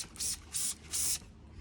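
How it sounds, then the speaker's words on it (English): Lanaguard anti-corrosion coating sprayed onto a Land Rover Defender chassis, three hissing bursts of spray, each about a quarter second long, with brief pauses between them, up close. "And then when we spray it on like this, it's really, really easy to spray on."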